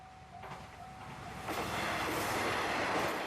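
Two trains pass at Ueno in Tokyo, their steady rumble building into a loud continuous rush of rolling wheels and air; no one speaks.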